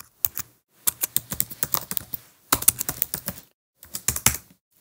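Keys clack on a computer keyboard as HTML code is typed, coming in several quick bursts of keystrokes separated by short pauses, close and clear with no voices.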